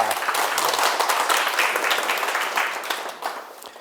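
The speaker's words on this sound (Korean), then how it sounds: "큰 박수 한번 부탁드립니다" Applause from an audience at a Korean lecture, a steady dense wash of many hands clapping that holds loud throughout and thins slightly near the end.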